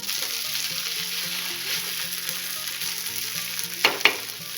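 Khandeshi thecha of fresh pigeon peas fries in a pan with a steady close sizzle and occasional stirring scrapes, a couple of sharper clinks near the end, over soft background music.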